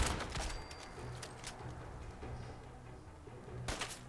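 Gunfire in Fallout 4 crackles in scattered bursts, with sharp shots near the start and again near the end over a low, steady background rumble.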